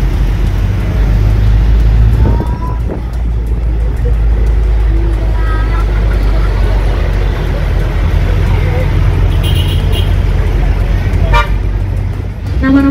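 Riding inside a Macito city tour bus in Malang, a loud steady engine rumble and road noise fill the cabin, with occasional horn toots and faint voices underneath.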